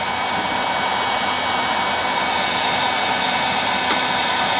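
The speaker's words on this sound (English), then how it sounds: "The heat gun has two settings. I always use it on high because I'm impatient." A heat gun blows on its high setting, a loud, steady, close whooshing roar of hot air that runs unbroken throughout with no talk.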